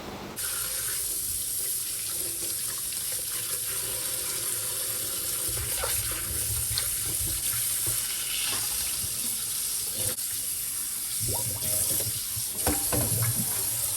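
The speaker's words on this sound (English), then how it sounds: "I also want to go ahead and wash all my fruits that I'm going to use" Kitchen tap water runs steadily into a sink while fruits, including a pineapple, are washed, a constant loud hiss broken by splashes and handling clunks.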